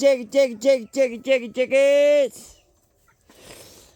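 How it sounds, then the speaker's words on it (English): Several short rhythmic clucks from a chicken, ending in a longer drawn-out squawk, followed by a pause and soft rustling. "Hey, chickens."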